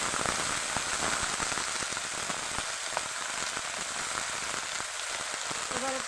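Mixed vegetables and other ingredients for a Malabar spinach chorchori go into a hot pan, giving a steady, fairly soft sizzle with light crackles throughout and no one talking.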